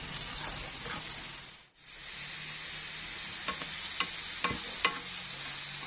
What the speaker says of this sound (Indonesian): Jadi kita akan buat bawang putih goreng. Goreng sampai kecoklatan.